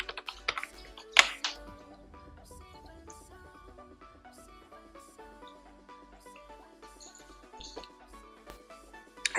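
Code being typed on a computer keyboard while building a Laravel and Firebase admin panel: rapid, uneven clusters of close key taps with a few louder strikes, quiet between bursts and no talking.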